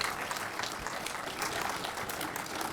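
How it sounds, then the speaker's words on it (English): Audience applause for a panel at a defense technology conference theater, a continuous, even roar of many hands clapping at moderate distance, with no speech over it. "Let's give a round of applause to this panel."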